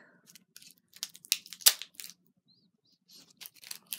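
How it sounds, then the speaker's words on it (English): Sharp crinkling and tearing of a bath bomb's plastic wrapper as a hole is poked through it, a few close, bright bursts of crackle and snapping plastic in otherwise quiet surroundings. "So I'm going to actually poke a little hole since it has a piece sticking up."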